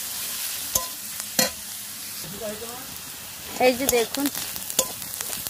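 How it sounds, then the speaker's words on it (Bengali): Onion and green chili frying in oil in a pan, with soft sizzling and stirring scrapes running throughout, a few sharp clinks of a utensil, and someone speaking briefly over the cooking. "পেঁয়াজ আর কাঁচা লঙ্কাটা একটু আমি লাল লাল করে একটু ভেজে নেব"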